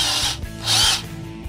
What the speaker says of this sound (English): my drill press is not large enough, so I need to drill this by hand